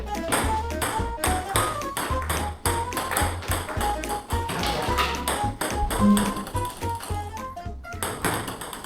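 Table tennis ball struck back and forth in an indoor game room, a fast steady run of crisp taps and pings from paddles and table bouncing close by.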